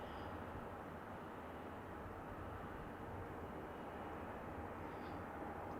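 An airliner taxis toward the runway at Manchester Airport in snowy weather, a steady, distant engine rumble and hiss holding evenly throughout with no voices.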